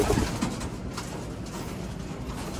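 Young pigeons in a loft coo softly and intermittently against a steady background hum, faint and not far off.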